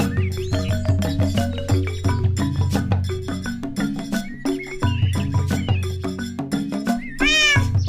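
A cartoon cat meows loudly and repeatedly in a Bangla children's folk tale, its cries woven through busy background music and ending in a drawn-out higher wail.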